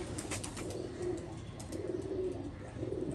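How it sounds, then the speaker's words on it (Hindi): A pigeon coos in soft, repeated low calls, fairly close, with a faint background hiss and a few chirps. "ये कबूतरी"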